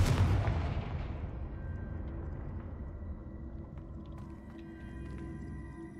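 A Confringo spell explosion in the video game Hogwarts Legacy, a loud booming blast that fades into a long rumbling decay with scattered crackles.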